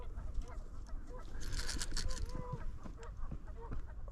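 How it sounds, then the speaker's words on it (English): Geese honk in the distance outdoors near water while an eagle attacks them, a loose run of nasal calls over a steady background rumble and wind noise. "The eagle's like attacking those geese up there."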